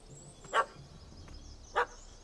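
A puppy in The Witcher 3 barks at a cat up a tree: two short, sharp yaps about a second apart, fairly close, over quiet ambient game sound.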